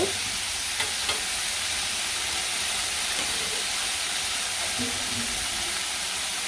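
Turmeric and chili powder fry with pre-fried potatoes in a hot pan, giving a constant loud hissing sizzle close by, broken only by a couple of faint taps at the start.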